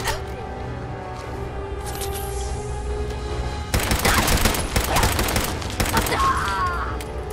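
Rapid automatic gunfire in the video game Fallout 4, dense bursts of shots close by starting partway through and continuing to the end, over a steady game background hum.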